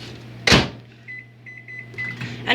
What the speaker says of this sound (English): And you put it in the microwave.